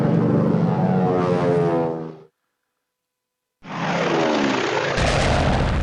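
Attacking WWI aircraft in the strategy game Strategic Command give two loud bursts of droning engine roar with booming rumble, split by a short silence.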